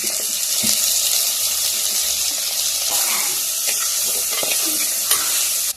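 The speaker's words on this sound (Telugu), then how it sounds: "టమాటాలు వేస్తున్నా, ఇట్లా ఎరగడ్డలు వేసుకోవాలి." Onions and tomatoes sizzle in a frying pan with a continuous hiss, punctuated by occasional stirring clinks and scrapes.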